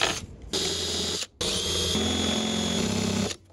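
A power drill bores 4.5 mm holes in a metal solar panel roof mount, whining steadily in two bursts with a short pause between and a slight pitch change as the bit cuts through.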